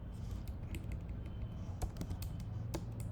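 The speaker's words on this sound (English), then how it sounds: "just some text string I'm typing here" Keystrokes on a computer keyboard tapping in irregular bursts, fairly close and moderately quiet, with a low steady room hum underneath and no talking.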